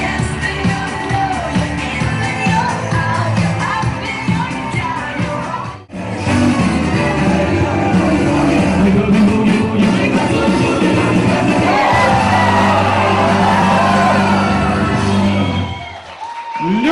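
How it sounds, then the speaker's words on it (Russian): Wedding guests clap and cheer loudly with whoops and shouts over music, a brief dip midway, then the applause swells again before fading. "Яна Настенко, под ваши аплодисменты!"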